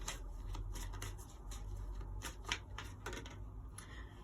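A deck of tarot cards is shuffled quietly, giving soft riffling flicks and rustles in an uneven rhythm over a low steady hum.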